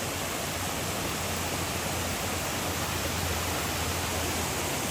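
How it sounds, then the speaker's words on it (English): Waterfall beside a trail near Boca, Jalisco, a steady broadband rush of falling water, close and constant, with no voices. "Look at this waterfall, guys."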